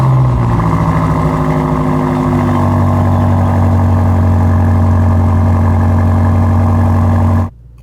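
BMW M5 LCI with its eight-speed gearbox idles steadily and loud up close, a deep continuous engine hum with a slight settling after start, then cuts off abruptly near the end.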